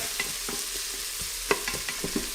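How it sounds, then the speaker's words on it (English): Onions sautéing in melted butter inside an Instant Pot, a soft steady sizzle with a few light scrapes and knocks of stirring, close and fairly quiet. "I want the butter to coat the onions as it sautés, does its little magic."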